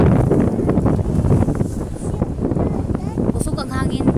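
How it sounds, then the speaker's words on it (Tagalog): Strong gusts buffet the microphone in a continuous low roar at a beach in Manay, Davao Oriental, with a voice briefly heard near the end. "Usog ang hangin"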